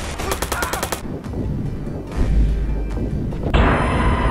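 Gunfire in the video game Watch Dogs opens with a rapid automatic burst, followed by scattered shots and heavy booming impacts. The sound is loud and close, with no talk over it.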